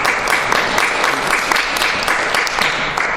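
An audience at an international fire investigation conference applauds after a presentation, loud, close clapping with distinct hand claps that carries on evenly for several seconds.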